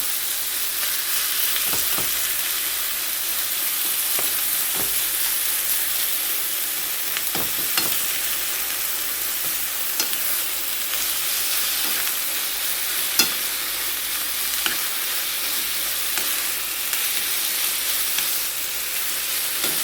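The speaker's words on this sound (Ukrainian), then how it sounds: "спочатку підсмажу фарш, спробую, а потім вже будемо підсолювати за смаком" Minced chicken meat frying in a pan, a constant loud crackling sizzle broken by occasional sharp spatula scrapes and taps, close up.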